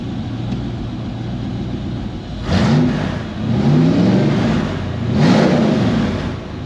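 A Lamborghini Countach engine runs close by, rising in two throaty revs over a steady idle and then settling back down as the RPM drops.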